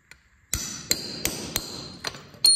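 A hammer strikes a pin into a concrete anchor set in a drilled hole in a garage floor, five or six sharp metallic blows at an uneven pace, close and ringing, with no talk.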